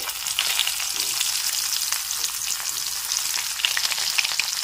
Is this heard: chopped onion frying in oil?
yes